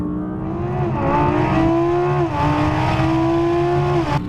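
Audi cars accelerating hard in a drag race, a loud, close engine drone holding a steady rising pitch with brief dips at gear changes, continuous and without speech.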